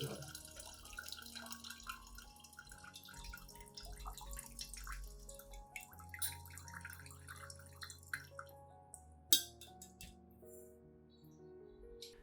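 A clear nutrient liquid made from banana peel drips and trickles faintly as solids are strained out, a quiet, irregular patter of drops in a home setting, with one sharper splash near the end.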